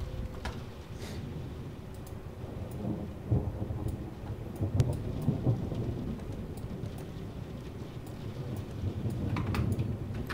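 Rain falls steadily during a shower in the train simulator Train Sim World 4, aboard a DB Fernverkehr class 146.5 electric locomotive, a soft continuous patter with scattered drop taps, alone and without talk.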